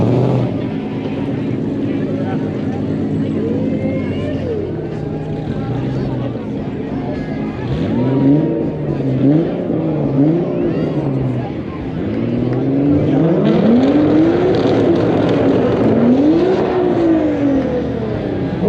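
Car engines rev during the Prescott Frontier Day street parade in 2025, with rising and falling revs over steady crowd and traffic noise and people talking nearby.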